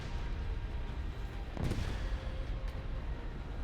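Rear gunner's machine guns on an early British bomber such as the Blenheim in War Thunder, a dense rattle of gunfire over a constant engine drone, with one louder burst partway through.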